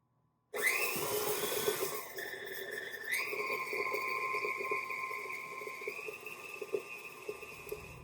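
Stand mixer starting up and creaming butter and sugar for oatmeal cookies, a sudden motor whir that climbs in pitch, then settles into a steady, close, loud whine with rhythmic beater churning.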